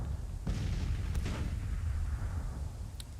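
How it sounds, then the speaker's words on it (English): Artillery fire from 12-pounder Whitworth guns in Grand Tactician: The Civil War, a couple of dull booms with cracking bursts over a low rumbling battlefield bed, moderately distant. "Our artillery has opened up. Especially these 12-pounder Whitworths."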